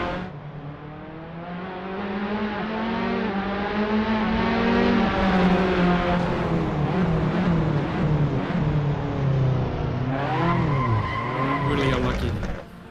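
Race car engines in a racing simulation video game scream and rise in pitch as they accelerate together, a loud sustained roar that dips and climbs again near the end with tire noise.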